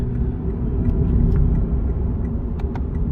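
Steady low engine rumble and road noise fill the cabin of a Lexus IS 300 AWD F Sport on the move, with faint ticking on top and no talking.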